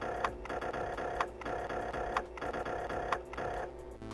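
A Pocket Operator drum machine loops its pattern 8, a quiet, busy electronic beat with regular clicky hits and a steady low pulse repeating over a few seconds.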